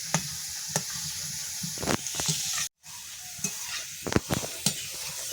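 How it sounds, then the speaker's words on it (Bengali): Thin potato chips frying in hot oil, a steady soft sizzle broken by a brief silence and scattered scrapes and clinks of a spoon stirring in the pan. "এই চিপসগুলো কিন্তু হালকা লাল লাল করে আমি ভেজে নেব"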